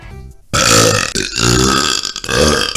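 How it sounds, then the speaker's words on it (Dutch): A man lets out a loud, drawn-out burp lasting about two seconds, heard close up and on its own with no talking. "Deze boeren."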